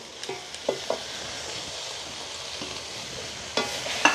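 Vegetables and chopped leeks stirred in a frying pan: a soft continuous sizzle with a few sharp scraping clicks of the spoon, quiet and close, with no talking.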